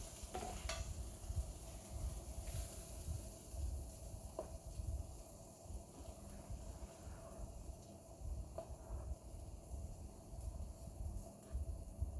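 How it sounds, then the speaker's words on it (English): Meats for paella stirred in a sizzling skillet, a steady frying hiss with soft scraping of the utensil along the pan bottom, close and continuous for the whole stretch with no talk. "I'm just going to keep stirring it for about another 10 minutes"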